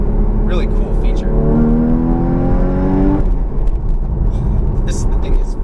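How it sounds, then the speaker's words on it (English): Porsche Cayman GTS engine blipping and rising in pitch as it rev-matches on a downshift, a steady loud climb of harmonics for about three seconds that then drops off, with a voice talking over the engine note. "if I just downshift, it will rev match for me"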